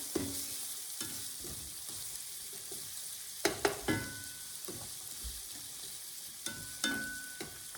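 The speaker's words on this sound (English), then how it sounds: "I'm actually going to caramelize them, so that's going to be about 20 minutes." Onions caramelizing slowly in a pan beside a grill, a soft low sizzle with scattered scraping stirs and a few sharp metallic clinks of a utensil, fairly quiet and close.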